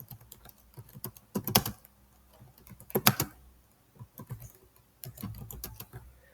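Typing on a computer keyboard, irregular clusters of soft key clicks with a few louder sharp bursts, close and quiet with short pauses between runs and no talking.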